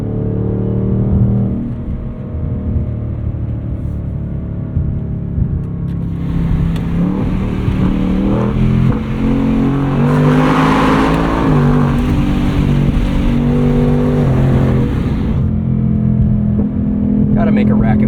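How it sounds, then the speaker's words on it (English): A 2024 Ford Mustang Dark Horse exhaust revs loud and close, rising and falling in steady, rumbling pulls that continue with no break. "Pretty straightforward exhaust note."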